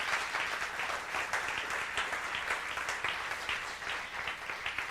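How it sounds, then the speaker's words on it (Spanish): Worshippers in a church clap loudly together in praise, a thick sustained burst of applause with uneven surges and a rough, crowded texture that never lets up. "Dale un fuerte aplauso al Señor."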